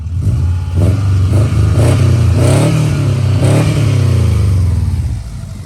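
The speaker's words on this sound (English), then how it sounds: "Listen to that exhaust." A 2004 Subaru Impreza 2.5RS revs loudly through its stainless exhaust, a few sharp rising blips over a rumbling idle, close up, ending as the sound cuts off.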